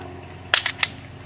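A shotgun fires Remington 6 shot game loads at a target about 10 yards away. It gives one sharp, brief report followed by quick cracking echoes, and the blast is over within a fraction of a second against a quiet background.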